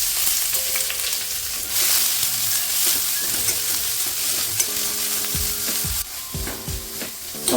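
Two thinly sliced onions fry in a little oil for a Kerala masala curry, with a loud continuous sizzle and the scrape of a spoon stirring the pan at close range, and no voices.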